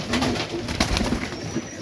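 Serbian Highflyer pigeons coo in a breeding loft, soft throaty calls repeating close by over a steady background hum.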